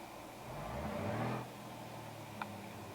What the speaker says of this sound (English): Alright, we can rev.